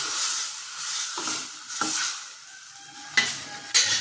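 Cooked dal water made with moong dal, asafoetida, garlic and onion hits a hot pan with a loud sizzle and hiss, followed by steady frying crackle and a few sharp stirring scrapes, no voices.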